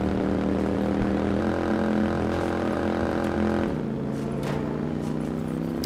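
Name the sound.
motorcycle engine while riding, from video game Watch Dogs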